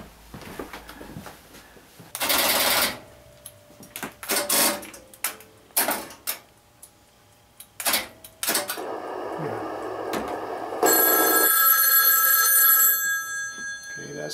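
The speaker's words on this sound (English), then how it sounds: "Okay, that's the test board phone." A test board phone in a step-by-step switch telephone exchange rings loudly in bursts, amid clacking and ticking of mechanical switching gear and clunks of handling.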